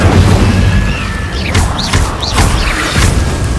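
In Hogwarts Legacy, an Incendio fire spell goes off with a loud booming blast, followed by whooshing flame bursts and rushing crackles that repeat over a rumbling background.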